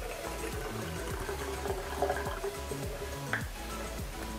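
Half a cup of water poured from a cup into a bottle while mixing a homemade cleaner, a steady trickling, gurgling pour with no talk.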